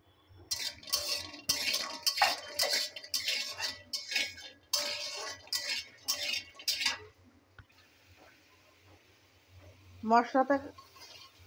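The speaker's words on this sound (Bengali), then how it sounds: "মশলাটা কষাচ্ছি, তারপরে বেগুন আলু দিয়ে দেবো।" A spice paste for a shrimp, potato and brinjal curry is stirred and fried in a pan with a close, rhythmic run of scraping and clinking strokes, followed by a quieter sizzle and a person talking.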